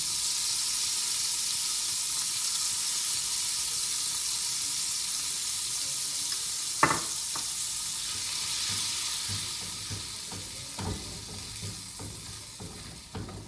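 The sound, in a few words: butter and flour cooking in a saucepan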